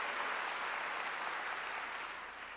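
A lecture hall's congregation breaks into a short burst of steady applause that stays even and fairly quiet throughout, with no talking over it.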